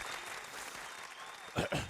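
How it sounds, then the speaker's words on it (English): A studio audience applauds Anthony Mackie, a dense wash of clapping running steadily throughout, with a brief louder swell and some voice-like sound near the end. "Anthony Mackie is here. Big round of applause."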